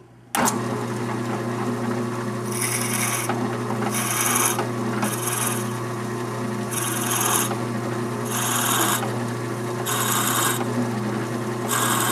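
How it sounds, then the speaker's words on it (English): A steady lathe motor hum with repeated short bursts of harsh drilling into a pen blank, coming in regular pulses about every second or so as the drill goes up and down to break the chip. No one speaks. "notice the drilling action as I go up and down in small increments to break that chip"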